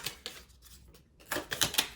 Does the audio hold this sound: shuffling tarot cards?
yes